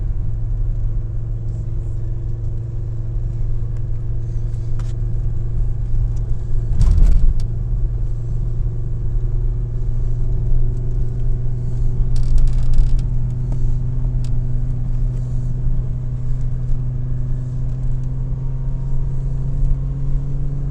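A 1996 Volvo 850 with drilled and slotted brake rotors drives along a road, its engine and tyre rumble holding steady and close, with a few brief bumps and rattles over about twenty seconds and no talking.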